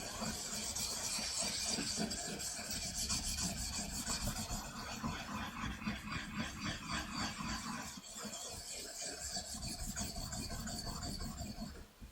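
A chipped blade, about a millimeter lost, is honed on a coarse 400-grit whetstone, giving a continuous rhythmic scraping rub with steady back-and-forth strokes, close and fairly quiet, with no talking.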